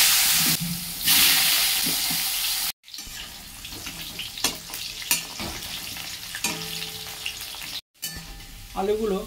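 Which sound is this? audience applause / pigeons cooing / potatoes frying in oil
potatoes frying in oil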